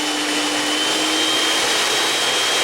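A Scarlett SC-HM40B01 electric hand mixer runs on its first speed setting with the bowl turning, giving a steady, loud motor whine with an even tone that holds throughout, with no voices.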